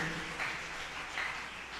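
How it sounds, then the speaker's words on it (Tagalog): A church congregation claps together in praise, a brief steady wash of applause in a reverberant hall, loud and dense with a few voices rising faintly beneath it. "Palakpakan po natin ang ating mahal na Panginoon."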